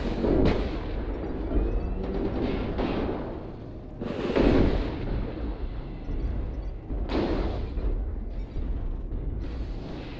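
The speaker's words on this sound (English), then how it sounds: "Target acquired. Airstrike online." Airstrike explosions in the video game MechWarrior Online land as heavy, rumbling booms, about three big blasts spaced several seconds apart over a continuous roar of battle noise.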